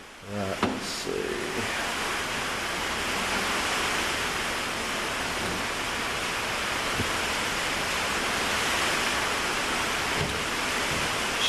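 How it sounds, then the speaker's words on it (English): Heavy rain pouring outside, a dense steady hiss of downpour lasting throughout, with a few faint knocks and clicks nearby. "She's pouring buckets out there."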